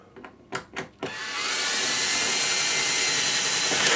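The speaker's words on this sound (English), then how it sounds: "Get my drill." A few sharp knocks, then a power drill starts up and runs in a steady, loud, close whir while building the legs of a portable model railway layout.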